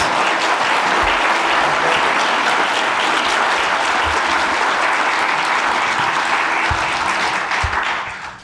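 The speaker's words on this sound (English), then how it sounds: "Can you give them all a big round of applause?" Sustained audience applause thanking a panel at a Southern Vermont economy summit keynote, a dense steady wash of clapping that holds loud throughout before tapering off at the end.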